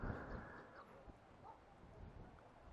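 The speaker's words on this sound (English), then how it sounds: "I can hear the dogs down there in the village." Dogs barking in a village down below a quiet rural road, heard faint and distant, a few scattered barks over low ambient wind and outdoor background noise.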